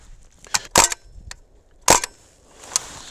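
Tommy gun style full-auto BB gun firing, a few sharp, snappy cracks in quick pairs and singles, close and loud against a quiet background with no talking.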